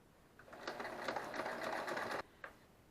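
A sewing machine runs a short burst of stitching on quilt binding, a close, steady mechanical whir lasting about two seconds before stopping, followed by a brief extra tick.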